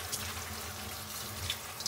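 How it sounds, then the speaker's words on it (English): Tap water runs into a kitchen sink as vegetables for an Irish soup are rinsed, making a steady, close hiss and splash with faint drips and no voices. "we're gonna give them a nice rinse under water."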